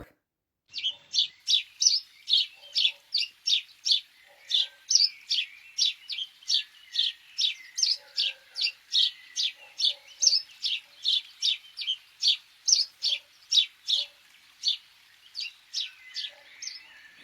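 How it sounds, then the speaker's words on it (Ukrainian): A house sparrow chirps in a long, steady series of bright, evenly spaced calls, close and clear against a quiet background. "Як кричить горобчик."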